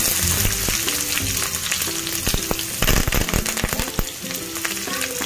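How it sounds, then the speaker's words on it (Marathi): Mustard seeds, cumin and onion fry in a spoonful of hot oil, with loud close sizzling and sharp popping crackles of the seeds bursting at irregular intervals. "त्यात 1 चमचा तेल टाकते मी, थोडीशी मोहरी, थोडेसे जिरे टाकायचे, थोडासा कांदा टाकायचा"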